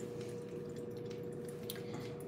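Water draining through a paper filter in a Chemex coffee maker, a steady soft trickle and patter that stays constant throughout, close by with no voices.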